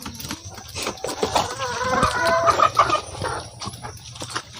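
Free-range heritage chickens in a backyard farm cluck close by, several birds overlapping in busy, uneven bursts of clucks against faint outdoor background noise.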